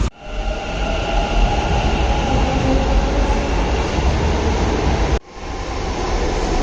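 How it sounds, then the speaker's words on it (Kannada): A metro train at a Bengaluru metro station rumbles loudly and steadily nearby, a continuous rolling roar with a brief dip partway through before the noise resumes. "ಸೊ ಈಗ ಮೆಟ್ರೋ ಹಿಡ್ಕೊಂಡು ಡೈರೆಕ್ಟ್ ಮಂತ್ರಿ ಸ್ಕ್ವೇರ್ ಹೋಗ್ತೀನಿ."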